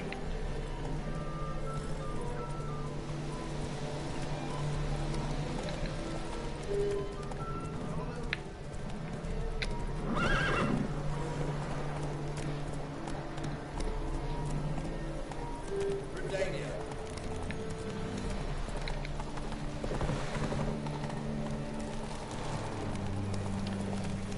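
In a video game, the horse Roach gallops with a steady clip-clop of hooves beneath continuous talking, the hoofbeats fairly faint and running throughout.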